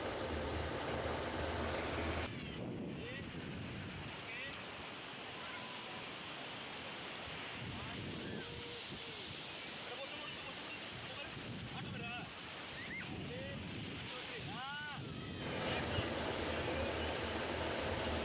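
Waves crash and wash continuously on a shore, loud and broad, with wind buffeting the microphone and faint voices beneath the surf.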